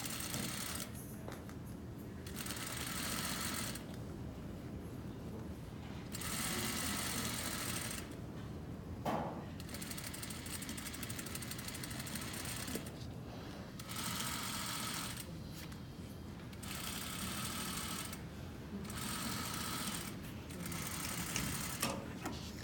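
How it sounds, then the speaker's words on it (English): A sewing machine top stitching binding onto a garment lining, running in repeated bursts of fast, even mechanical whirring separated by short pauses, close and fairly steady, with no talk. "So I'm just gonna line it up and just top stitch that."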